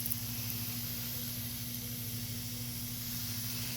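A hand sprayer misting water over garden plants while replanting sweet peas, giving a steady, soft, continuous hiss that runs unbroken from start to finish, close and fairly quiet with a low hum beneath it.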